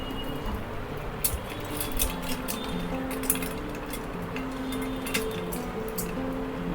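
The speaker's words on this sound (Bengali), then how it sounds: "এখন আমি সুন্দরভাবে নেড়ে মিক্স করে ফেলবো।" A jamun soda drink being stirred in a glass, with light clinks of a spoon against the glass at irregular intervals over soft liquid swirling, close and fairly quiet, no talking.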